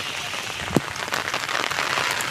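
Heavy rain falls across a waterlogged farm with green fields, a close, steady patter and hiss with a single soft thump early on.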